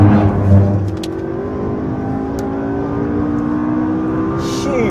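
A McLaren 650S supercar engine pulls hard under throttle, a loud, sustained rising drone with steadily climbing pitch heard from on board during a track drive.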